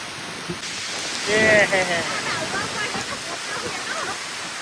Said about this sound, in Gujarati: જબરજસ્ત વરસાદ પડવા માંડ્યો